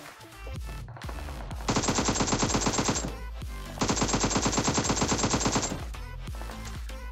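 Two long bursts of rapid automatic gunfire in the mobile game PUBG Mobile, loud and close, with single shots and game sounds between the bursts.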